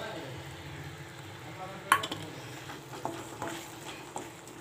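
Thickened tomato pickle stirred with chilli powder in a hot pan: a soft frying sizzle underneath, with scraping stirs and a few light knocks of the spoon against the pan.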